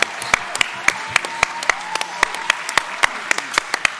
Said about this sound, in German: gebt ihm doch einen fetten Applaus.